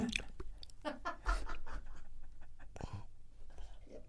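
Rough, breathy exhalations and panting repeat irregularly up close, with faint scuffing and mouth noises between breaths.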